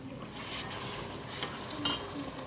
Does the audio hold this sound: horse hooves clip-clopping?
no